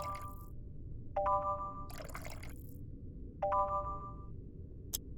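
Water being poured in the pixel horror game Yuppie Psycho, rendered as two short, bright, chime-like splashing cues a couple of seconds apart over a quiet hum, followed by a single brief click near the end.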